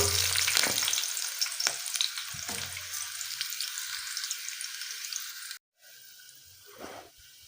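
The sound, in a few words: onion and green chillies frying in hot oil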